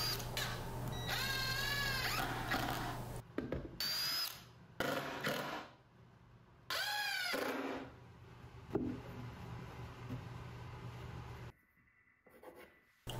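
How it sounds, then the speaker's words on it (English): A drill bores countersunk holes through the back of a wooden shop cabinet and screws are driven in: two rising whine bursts of the drill separated by clunks and pauses, close and fairly quiet, with a steady low hum underneath. "then I drilled countersunk holes through the back of the cabinet and secured it with screws."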